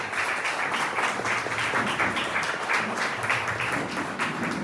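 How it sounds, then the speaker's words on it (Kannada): An audience at a welcome ceremony gives loud, sustained applause, a dense even wash of many hands clapping throughout with no break. "ಜೋರಾದ ಚಪ್ಪಾಳೆ."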